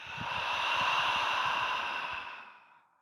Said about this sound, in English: This time, make the sound ha as you exhale,